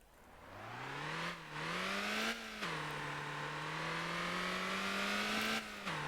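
A car engine in the driving game Motor Town revs up and holds a steady, smooth drone through a lap, with brief dips at gear changes, close and continuous with no talking.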